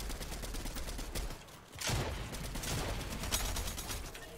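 Rapid gunfire in the battle game Fortnite, a continuous rattle of shots with distinct repeated bursts, fairly loud and busy throughout with a brief lull partway.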